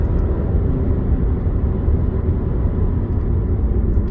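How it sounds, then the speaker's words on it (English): A 2022 Alfa Romeo Giulia Veloce's turbo engine spools up under acceleration, a heavy, steady low rumble with engine and road drone inside the cabin, loud and unbroken, with no voices. "You can hear that turbo spool up."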